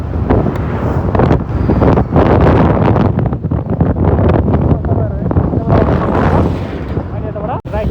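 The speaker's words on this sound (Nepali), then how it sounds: "यस्तो हावा चल्दो रहेछ यहाँ" Strong wind buffets the microphone outdoors beside a stream, making a loud, continuous roaring rumble that swells and dips across the whole stretch.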